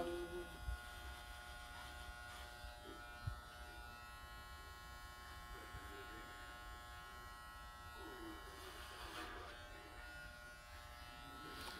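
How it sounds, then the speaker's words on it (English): An electric shaver buzzing steadily through long hair, a continuous close hum with faint changes in tone as it moves, and occasional soft bumps. "And thus begins the real shaving."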